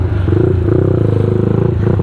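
Yamaha MX King motorcycle with a 175cc HTS engine, a close, loud, steady idle-like rumble with fast regular pulsing throughout.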